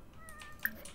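Cat meowing in The Sims 4 game, a short in-game cat call with a brief bright chirp near the middle, quiet and alone.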